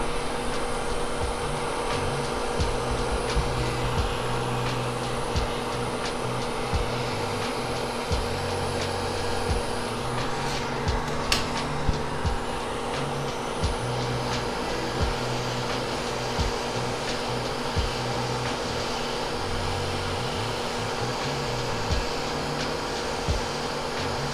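Hot air rework station blowing at 350 Celsius and 70 air while desoldering a component from a damaged SD card board, a steady loud airy whoosh with a low hum, faint clicks scattered through, no talk.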